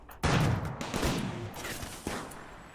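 Gunfire crackles in RimWorld, with a sudden loud burst of rapid shots followed by scattered, fading reports and a last sharp crack, heard alone without talk.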